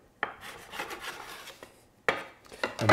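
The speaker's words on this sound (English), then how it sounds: "So now cut the dough into four segments. I'm just using my bench scraper here." Bench scraper slicing baguette dough into four portions on a board, giving two scraping strokes with soft rasping drags between them, close and fairly quiet.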